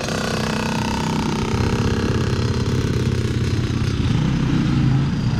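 A dirt bike engine drones loudly and steadily, revving with a rough, buzzing tone that rises and falls slightly throughout.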